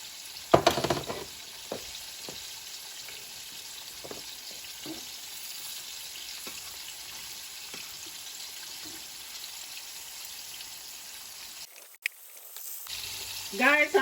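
Fish frying in hot oil for a Ghanaian tomato gravy, a steady crackling sizzle running throughout with a few stirring knocks and a brief pause near the end.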